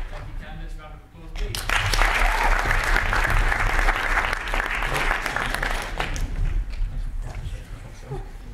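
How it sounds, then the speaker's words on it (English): Loud, sustained applause from an audience at a student election question-and-answer session, rising quickly after a brief voice and holding steady for several seconds before thinning slightly. "Thank you, candidates. Round of applause,"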